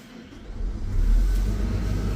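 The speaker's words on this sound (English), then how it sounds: "The tractor should start." A tractor with a DEF system cranks and starts in cold weather, its low rumble swelling into a steady, deep engine idle that stays loud and close, with no talk.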